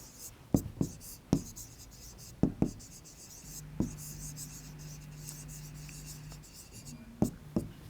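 A pen writes on paper during a maths lesson on cubes and cube roots, making short scratchy strokes and taps close to the mic at an irregular pace, with a faint low hum beneath.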